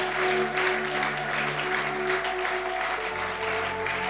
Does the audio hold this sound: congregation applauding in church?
yes